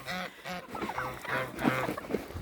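Several geese honk in quick, overlapping nasal calls close by, a busy cluster of harsh squawks with no speech.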